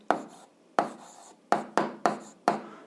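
Chalk taps and strokes on a board during an eighth-grade algebra lesson, six sharp separate knocks spaced irregularly, each with a short scratchy tail, loud and close with no talking.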